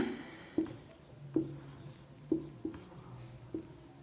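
Writing on a board during a physics lesson on calculus and motion: a series of short, scratchy strokes at fairly even intervals, close and clear, with no talking.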